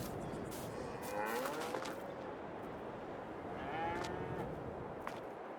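Cattle lowing on a dairy farm in the video game Farming Simulator 22, with two drawn-out moos about two seconds apart that are soft and somewhat distant, set over a constant noisy background.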